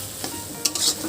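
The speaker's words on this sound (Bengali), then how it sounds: "এটাকে আমি কষাবো।" Paneer masala sautéing in a pan, a steady sizzle of frying with scraping stirs and a couple of sharp spatula clicks, close and moderately loud, no voices.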